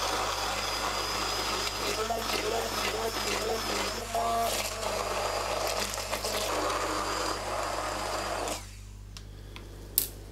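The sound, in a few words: blender puréeing lemon, sunflower oil and eggs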